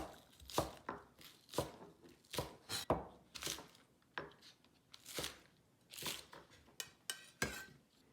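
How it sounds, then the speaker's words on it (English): A knife chops white onion and green onions on a board for a glass noodle dish, giving a close, steady run of crisp, separate chops with short pauses between them and no talk. "Next, we cut white onion. We just only need half. And cut the green onions."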